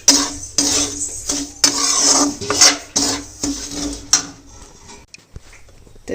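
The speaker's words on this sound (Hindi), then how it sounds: "अब मैं निकाल लेता हूँ ट्रे में" Roasted food scraped out of a pan into a tray, a close sequence of metallic clanks and scrapes with brief pauses, trailing into quieter knocks.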